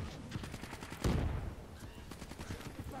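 Gunfire in the Black Ops 3 campaign, a rapid run of shots with one heavy booming blast near the middle and more scattered shots trailing after, loud and without talk.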